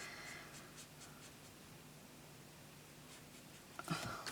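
Copic V04 alcohol marker colouring on paper, soft continuous scratchy strokes at close range, quiet with a few brief louder rubs near the end.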